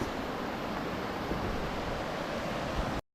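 Balangikog Falls in Baungon, Bukidnon, roars as a steady, dense, broadband rush of falling water, close and loud and unbroken, until it cuts off abruptly.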